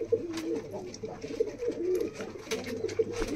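Pigeons in a high-flying pigeon loft coo continuously, soft low burbling calls overlapping from several birds close by, with occasional flutters and small knocks and no talk.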